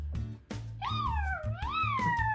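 A voice imitates a cat, drawing out rising and falling meows in a sing-song pitch over a steady low hum, with several short calls in a row.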